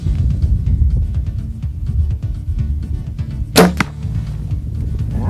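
An arrow shot from a bow into a 3D archery target outdoors in bitter cold: a single quick, loud swish-and-thwack rising briefly above steady wind and ambient rumble.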